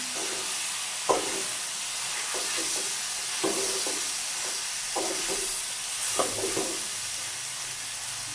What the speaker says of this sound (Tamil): இடைக்கில் நாங்கள் இப்படி கிண்டி விடணும்